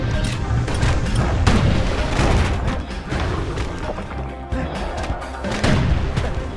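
Security skiffs firing in the Bastion video game, a dense run of booming shots and crashes at steady loud volume, overlapping with no clear gaps between them.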